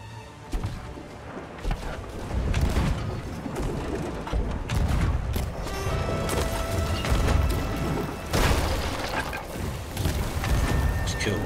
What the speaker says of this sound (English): I'm going to use their cannon